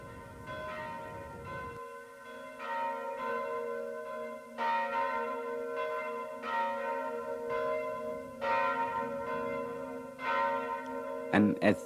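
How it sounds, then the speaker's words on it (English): Church bells in Shillong ring out in repeated, resonant strikes, their tones overlapping and hanging in the air, with a clanging flurry of faster strokes at the close. "And as church bells ring"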